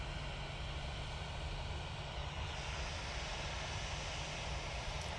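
An airliner departs Manchester Airport bound for Murcia, its jet engines producing a continuous, moderately distant rumbling roar that stays even throughout, with no speech.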